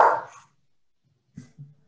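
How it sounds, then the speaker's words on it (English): A pet dog gives one sharp, loud bark indoors, followed by silence and two faint low sounds. "sorry, that's my dog."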